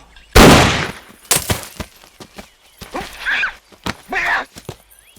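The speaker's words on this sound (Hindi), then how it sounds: "अब गोली चला दो।" A single sharp, loud pistol gunshot cracks out near the start, followed by people talking.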